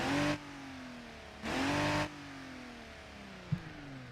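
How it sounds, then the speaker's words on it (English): A car engine in the BeamNG driving game revs twice, each short burst rising in pitch before dropping back to a steady idle hum, close and alone without talk. "listen to what it sounds like when you rev it"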